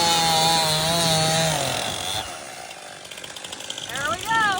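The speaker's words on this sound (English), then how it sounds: "Chainsaw needs sharpened." A chainsaw engine whines with a wavering pitch, then turns into rough, gritty cutting noise as the dull chain bites into wood, with a voice speaking over it.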